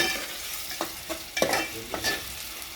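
Onion sautéing in oil, a low continuous sizzle with a series of spatula scrapes and taps at uneven intervals.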